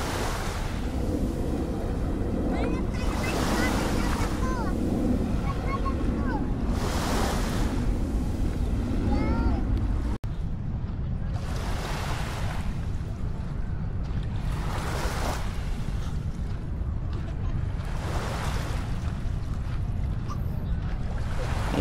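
Sea waves at Manila Bay surge and break in steady, broad washes every few seconds, loud and close, with wind buffeting the microphone throughout and no voices.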